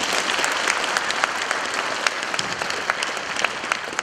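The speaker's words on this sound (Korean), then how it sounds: "여러분들 자신에게 박수 한번 보내주시기 바랍니다" An audience claps together at a closing ceremony of a Korean national committee's general meeting and launch event. The applause is steady and sustained, with dense overlapping handclaps throughout.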